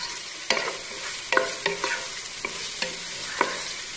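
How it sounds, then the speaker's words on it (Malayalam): Vegetables for fried rice are stir-fried in a pan, a steady sizzle of hot oil broken by repeated sharp scrapes and tosses of the spatula, close and loud with no voices. "അപ്പൊ നമുക്കിതൊന്ന് നല്ലോണം വരുത്താം."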